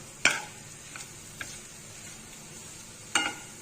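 Egg and potato fry stirred in a pan, a few sharp scraping strokes spaced apart over a quiet, faint background with little sizzle.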